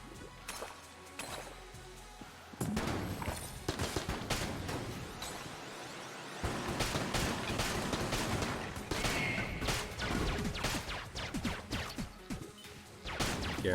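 Rapid AK gunfire from Enter the Gungeon bursts in dense, sharp volleys mixed with crashing impacts and whooshes, running loud and nearly continuous with brief quieter gaps.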